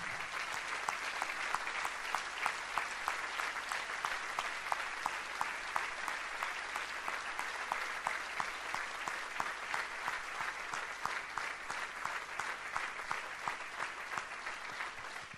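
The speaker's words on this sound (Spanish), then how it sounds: "¿no le podemos dar un fuerte aplauso a este Jesús?" A church congregation applauds during a sermon, steady dense clapping with sharp individual claps standing out, sustained for the full stretch at moderate distance, no voices over it.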